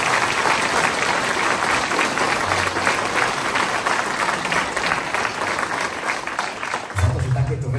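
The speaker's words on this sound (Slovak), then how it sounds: "ešte jeden obrovský potlesk do zákulisia" Big audience applauding at a concert in Liptovské Revúce, Slovakia: dense, steady clapping that fills the hall for the whole stretch, loud and close, with a low rumble creeping in near the end.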